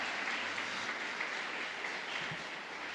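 Church congregation applauding during a sermon, a steady, fairly distant wash of clapping with no voices over it.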